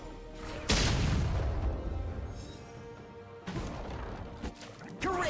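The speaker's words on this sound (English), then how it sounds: "Blue team's turret has been destroyed." Turret destruction in a League of Legends match: a sharp, loud crashing blast followed by a rumbling decay, then further smaller impacts and game effects.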